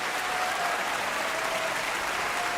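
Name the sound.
hand clap applause sound effect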